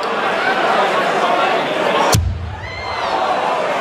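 Large darts hall crowd at a semi-final match, a loud steady murmur that breaks into a sharp thud, then swells back into a rising collective groan.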